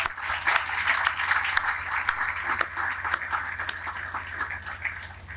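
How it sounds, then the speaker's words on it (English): An audience at an offshore wind announcement at Portsmouth Marine Terminal bursts into sustained applause, a dense, loud wash of many hands clapping that holds steady for several seconds before easing slightly. "I just wanted to give them a round of applause and appreciation from all of us"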